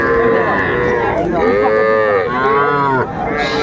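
Cattle, including Sahiwal calves, mooing loudly and close by at a cattle market, a few long, drawn-out moos following one another with barely a pause.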